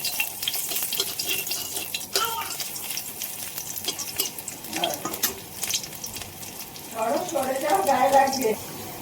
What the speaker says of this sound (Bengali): রসুনটাকে এবার তেলের মধ্যে এখানে দিয়ে ভেজে নেব লাল লাল করে